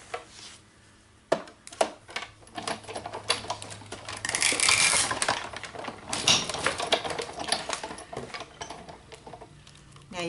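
A die-cutting machine cuts foil for Christmas ornaments, giving close mechanical clicks and a rattling, grinding run that builds midway, with scattered taps around it and no speech.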